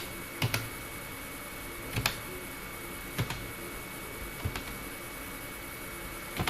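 Sparse key presses on a computer keyboard while typing in MS Word, a few isolated clicks and short double taps spaced over steady background hiss, with no voice.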